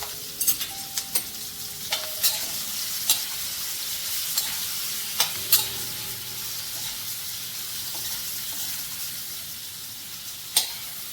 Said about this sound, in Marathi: आता ह्यामध्ये तोंडली टाकून घ्यायची आहे. व्यवस्थित मिक्स करून घ्यायचं.